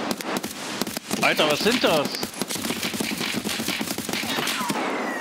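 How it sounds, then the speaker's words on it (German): Gunfire in the video game Escape From Tarkov comes in rapid automatic bursts and scattered shots as the player takes heavy fire, with someone speaking German over it. "Alter, ich werde hart beschossen."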